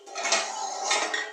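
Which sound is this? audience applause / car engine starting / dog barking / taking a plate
taking a plate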